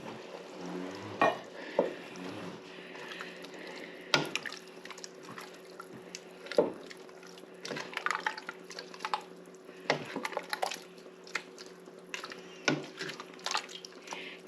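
A spoon scrapes and stirs thick canned chili beans, some drained and some in their sauce, in a pot, with soft wet squelches and occasional clanks against the metal, close and fairly quiet, no voices.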